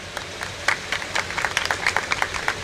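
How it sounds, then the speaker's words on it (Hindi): A crowd at a school function in Chandigarh applauds steadily, many hands clapping at once in a dense, moderately loud burst that carries on throughout. "तालियां हो जाएंगी।"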